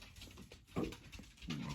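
Dogs indoors give soft whimpers and quiet panting in a short, faint, close burst, with no talk.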